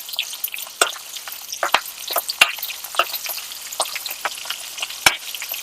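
Green chillies and onions frying in hot oil in a pan, a loud close crackle and sizzle with sharp spitting pops scattered irregularly throughout.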